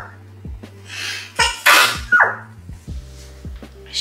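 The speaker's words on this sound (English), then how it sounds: "Oh no, I need to sneeze." A single sharp sneeze bursts out after a quick intake of breath, loud and close, with a second smaller sneeze-like burst following.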